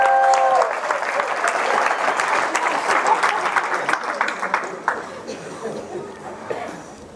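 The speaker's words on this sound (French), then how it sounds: "Vous pouvez l'applaudir" A church congregation breaks into warm applause, a dense wash of clapping that holds for several seconds and then thins and fades, with a little chatter mixed in.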